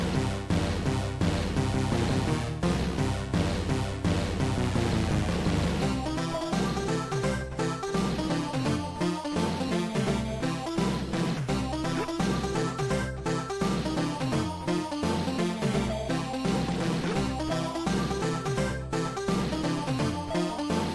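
Background music from the Amiga game Prehistorik, a busy, bouncy honky-tonk style tune with a steady beat, loud and continuous, layered over game sound effects.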